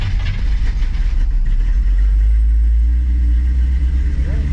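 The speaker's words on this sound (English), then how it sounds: "let's see how she does on a cold start" A 1957 car engine with FiTech fuel injection runs on a cold morning after start-up, a loud, steady low rumble of idling close by with a constant mechanical drone throughout.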